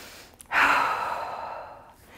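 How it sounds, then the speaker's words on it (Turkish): A deep, slow breath during a leg and hip workout, a single long airy exhale rushing out after a short intake, close and clear with no talking. "Derin nefes al, sakin nefes ver."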